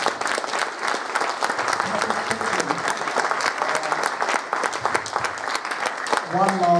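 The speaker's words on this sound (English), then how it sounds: "Let's have a round of applause for Mr Biffo." A live audience at a Play Expo Blackpool talk marking Digitiser's 25th anniversary claps steadily and fairly loudly throughout, a dense continuous round of applause with a few voices rising briefly near the end.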